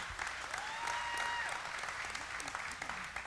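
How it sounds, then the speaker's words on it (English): A church congregation applauds during a service, a soft, steady wash of clapping from a distance with faint whistle-like tones drifting over it. "we can give God a round of applause for the life change"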